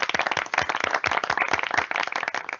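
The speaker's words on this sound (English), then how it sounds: "Everyone, please join me in a warm round of applause for all of the amazing organizations and individuals." An audience at an EdTalk 2020 event claps in a brisk, dense round of applause, the individual hand claps distinct and close, steady throughout with no talking.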